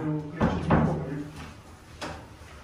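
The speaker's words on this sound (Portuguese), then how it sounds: "Deixa eu só abrir a porta ali." A door pulled open during work restoring a stained floor: a couple of dull wooden clunks and a softer knock a moment later, heard close over a steady low room hum with nobody talking.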